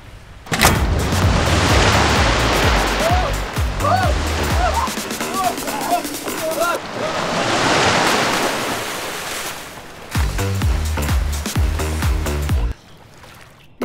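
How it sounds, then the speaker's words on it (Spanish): Strong animated ocean waves crash and surge loudly in a cartoon water-fight battle royale, with heavy rumbling booms and wind-like roar rising and falling in several big swells, interrupted by short pauses. "oleaje fuerte?"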